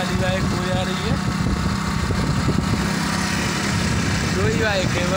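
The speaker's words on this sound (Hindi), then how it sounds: "आगे वाली बाइक हो जा रही है" Motorbikes ridden along a road with friends, a steady engine drone running throughout beneath frequent speech and voices.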